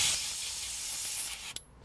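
An airbrush sprays cleaner while being flushed of leftover paint, giving a steady close hiss that cuts off abruptly near the end with a small click. No one speaks.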